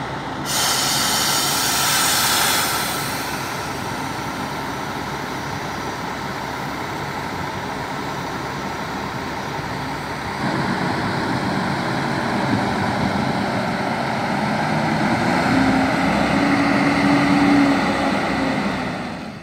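Interstate buses at Brasília's interstate bus station, a steady loud diesel rumble and hiss of large coaches idling and moving, with a heavier engine surge at the start and again in the second half, no voices.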